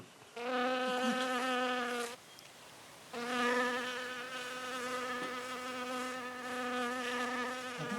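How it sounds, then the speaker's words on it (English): A fly buzzes close by with a high, steady whine, breaking off briefly partway through before droning on again, with no voices. "Can you hear the little pest going buzz?"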